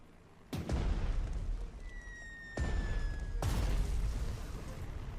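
Anti-aircraft gun being destroyed in the strategy game Panzer Strategy: three heavy explosion booms land in sequence, each with a sharp onset and a long rumbling tail, alongside a thin rising game tone.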